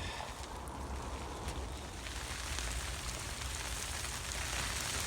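Steady rain falling on a surface, a dense even hiss with soft patter throughout, no voices.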